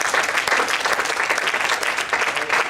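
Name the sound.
applause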